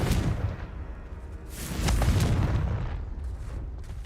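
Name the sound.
Confringo explosive spell cast in the video game Hogwarts Legacy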